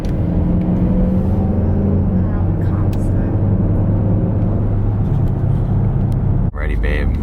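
A 2020 Dodge Durango R/T fitted with a Borla S-Type cat-back exhaust drones with a steady, loud low rumble heard from inside the cabin while driving, with people talking over it and a brief shift near the end.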